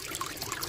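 Water trickles over rocks in a stream at rapids, a brief, soft, continuous babble heard nearby without voices.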